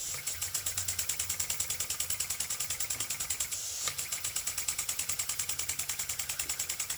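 A fully restored IND-X live steam engine heated by an immersion-heater boiler chugs steadily nearby, its fast regular exhaust beats pulsing evenly throughout with a brief pause midway before resuming.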